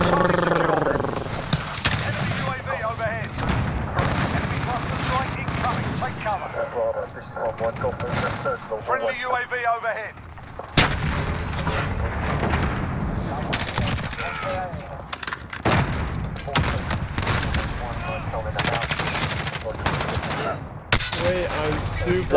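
Dense gunfire in Call of Duty: Modern Warfare Ground War, with sustained automatic bursts and loud shots running almost continuously at close range while a player talks over the action.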